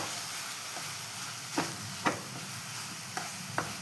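Banana sautéing in ghee with sugar for a pudding: a faint, steady frying hiss close by, broken by four or five soft spoon taps and scrapes.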